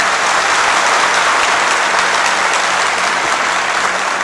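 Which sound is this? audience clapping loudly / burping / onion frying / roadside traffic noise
audience clapping loudly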